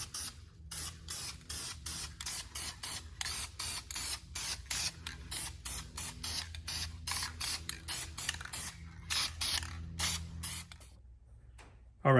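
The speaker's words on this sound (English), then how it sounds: "I'm just gonna lay a light base coat of paint on this" Aerosol spray paint laid as a light base coat on BMW E36 M3 caliper brackets, heard as a long run of short hissing bursts in steady rhythm, close and fairly loud, with no talk.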